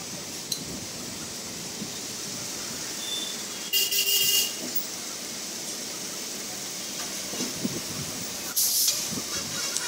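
A Santipur–Krishnanagar local train slows down ahead of a level crossing, giving a steady rumbling ride noise with two short, louder hissing bursts partway through and near the end.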